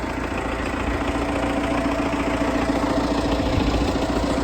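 An MTZ-82 tractor diesel engine idles steadily and loudly up close, with a constant low rumble and rhythmic knocking pulse, before wheat sowing in rain.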